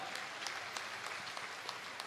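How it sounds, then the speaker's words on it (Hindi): Applause from an audience at a Rajasthan gathering, a steady dense patter of many hands clapping at a moderate distance, continuous throughout with no voices on top. "अरे ताली तो जोर से ठोको"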